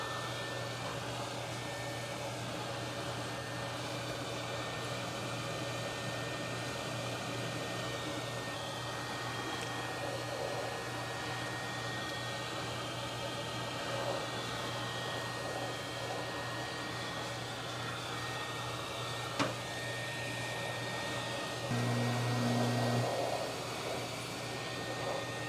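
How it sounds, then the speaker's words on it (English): A heat tool blows a steady, loud rush of hot air onto a PC processor heatsink, a constant whooshing drone that holds unchanged throughout, with a faint click near the end. "I'm going to go ahead and apply some heat to this heatsink because I don't want to rip the processor out of the socket."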